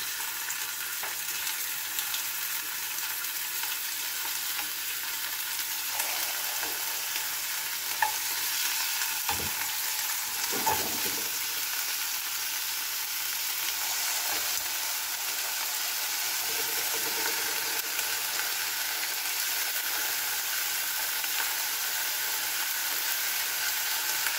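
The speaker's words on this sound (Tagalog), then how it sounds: "ngayon ay iprito natin ang ating marinate na chicken" Marinated chicken fries in a pan with a loud, even sizzle that holds throughout, a few faint stirring scrapes rising now and then, no voices.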